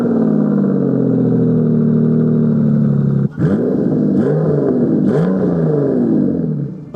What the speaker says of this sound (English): The V12 itself is a masterpiece. Even though it has its roots at Ford, it was unique to Aston and gave the car an authentic soundtrack.